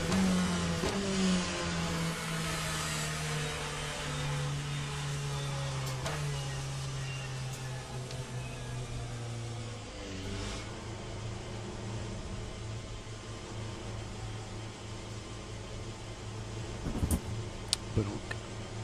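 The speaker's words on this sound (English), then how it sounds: "Okay, Rick, there's a faster car approaching." Race car engines roar continuously in a GT racing video game, a steady near drone whose pitch rises and falls with gear changes, and a brief clatter near the end.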